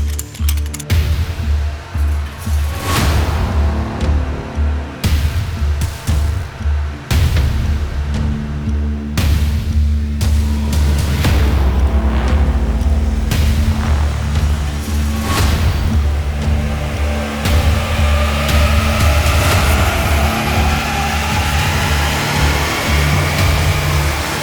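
A tuned Volkswagen Golf GTI TCR at Stage 2, making 360 hp, barks through a series of loud, sharp revs with crackling gaps between them, then holds a long rising pull of engine and exhaust, close and alone.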